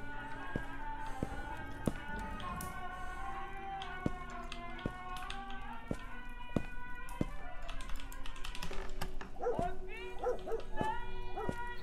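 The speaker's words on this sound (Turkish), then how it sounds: "Köpek gene havlıyor bak." Dog barking in the horror video game İblis, set in a village house at night, with repeated barks and yips over tapping sounds while a person talks throughout.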